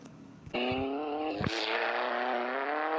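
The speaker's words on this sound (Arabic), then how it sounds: "حنا باغيين نسمعوا الاصوات ديال الموتور" A motorcycle engine in a video game kicks in after a moment and holds a loud, close, steady drone that climbs slightly in pitch.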